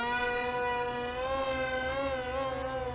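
Wltoys XK X450 RC VTOL plane motor at full throttle, a loud, continuous high-pitched buzzing whine with a slightly wavering pitch, close and alone.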